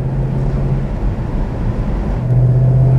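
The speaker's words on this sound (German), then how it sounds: "jetzt sind wir mit dem Auto mal ein bisschen weitergefahren" 1956 BMW 503 Coupé driving along, a steady low engine hum and road rumble heard from inside the car, with a faint shift in tone near the end and no talking.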